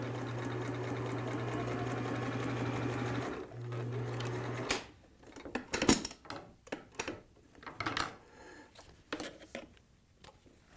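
A sewing machine runs a straight stitch along a double-folded, ironed hem of a cap, a steady whirring hum for several seconds, then stopping into quieter handling clicks and rustles of fabric.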